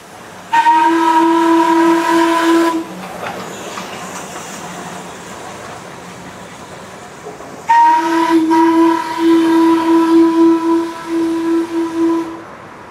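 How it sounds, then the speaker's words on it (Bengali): A coal-fired steam toy train whistle blows long and loud twice in Darjeeling, separated by a quieter stretch of chugging and hiss; the second blast wavers in pulses. "এখানে স্টিম ইঞ্জিন টয় ট্রেনে কয়লা দেওয়া হচ্ছে।"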